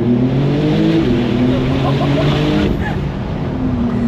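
A 750-horsepower turbocharged Porsche engine revs loudly up close, its tone stepping up and down in pitch with a rough, throaty growl, while people talk over it.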